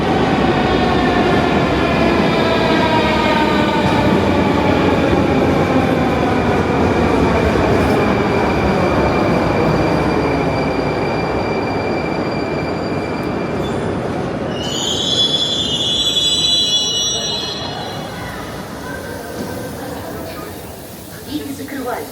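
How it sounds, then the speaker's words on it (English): A Kazan metro train pulls into a station, its rumble and squealing wheels building loud and close, then easing as it slows and stops, with a high brake or door tone near the end and voices faintly underneath. "Train is just showing up."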